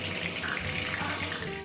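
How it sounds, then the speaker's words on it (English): Batter frying in hot oil, a dense, steady sizzle and crackle filling the short stretch at close range with no talk over it. "And now listen to that sizzle."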